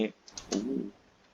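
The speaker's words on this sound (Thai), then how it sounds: "คลิกเมาส์" Mouse clicks during a PC game session, a few sharp short clicks near the mic, with a brief voiced sound from the player in the middle.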